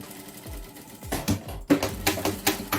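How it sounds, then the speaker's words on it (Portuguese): A sewing machine stitches a large crossbody handbag in close, rapid mechanical bursts, stopping and restarting with clicking pauses between runs. "agora eu vou costurar essa parte aqui, ó."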